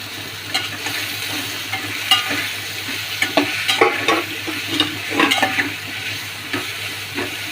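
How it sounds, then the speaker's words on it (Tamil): Eggplant and carrot being sautéed for sambar in a pan, with steady frying sizzle and repeated scraping stirs that come close and fairly loud throughout, with no voices. "இப்போ கத்திரிக்காயும் கேரட்டையும் போட்டு வதக்கிக்கிறேன்."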